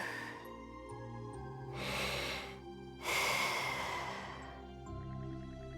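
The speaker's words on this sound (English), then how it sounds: "The sound of Karja's steady breathing fills the air." Steady breathing of a sleeping character in the Ys X game, slow audible inhales and exhales rising and falling over soft background music.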